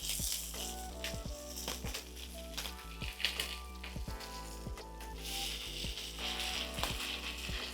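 Tuna melt with cheese and egg binder frying in a pan, a quiet continuous sizzle broken by repeated sharp clicks and scrapes of a utensil, with no talk.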